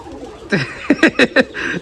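Pigeons let out of a cage, with a few soft coos and a quick run of four sharp fluttering bursts close by after a brief rustle.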